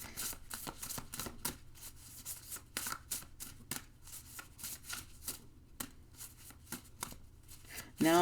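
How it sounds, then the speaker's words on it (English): Oracle cards are shuffled in quick repeated riffles and soft flicks, close and crisp, with short pauses between bursts. "I'm just shuffling. Nothing's coming out."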